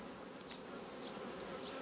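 Honeybees buzz at a hive during a colony inspection, a dense steady hum, faint but continuous, with no voices.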